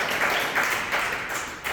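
An audience at a religious discourse claps together in a dense, continuous patter of applause with a few rhythmic swells, filling the whole short moment at close range.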